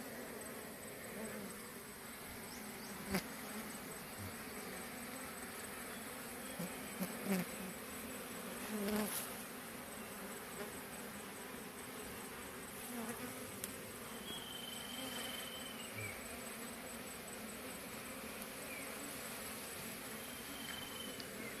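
Bees from a hive on an electric pole buzz continuously, a dense drone with occasional louder passes close by, and no talking.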